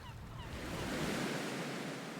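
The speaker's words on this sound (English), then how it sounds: "The boat glides out in the harbor in the morning breeze, the water deepening to a rich blue the further they go." Ocean waves around a sailing boat gliding out of a harbor in a morning breeze in the game Stella Sora: a soft, brief wash of surf with faint wind.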